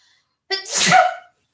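A single sharp sneeze bursts out close by after a quick intake of breath, then silence.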